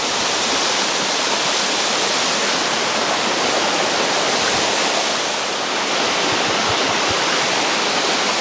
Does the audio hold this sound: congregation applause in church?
no